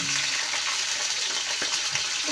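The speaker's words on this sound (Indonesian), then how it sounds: "Goreng lombok." Chili peppers frying in a pan while sambal pindang is being cooked, giving a loud, steady, dense sizzle with faint stirring scrapes and no voices.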